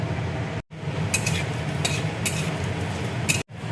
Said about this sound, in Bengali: ওই তেলের মধ্যেই দেখো আমি তেজপাতা দিয়ে দিচ্ছি, গোটা গরম মশলা দেখো দিয়ে দিচ্ছি